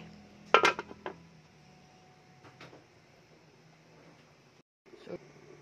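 A metal lid is set on a cooking pot of ginataang galunggong with a short clatter near the start, then quieter kitchen knocks follow, with a voice now and then.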